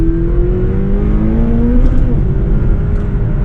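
A McLaren 570GT accelerates hard, its engine note climbing steadily in pitch as it pulls through the revs, loud and close.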